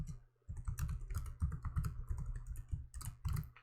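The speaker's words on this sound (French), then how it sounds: "si je veux ouvrir le site nouvelletechno.fr, eh bien je vais ici taper l'URL" Rapid bursts of clicking keystrokes on a computer keyboard while a URL is entered, close and crisp with a brief pause near the start.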